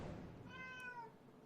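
An upset cat lets out a single drawn-out, wavering meow indoors, faint and slightly distant, over quiet room noise.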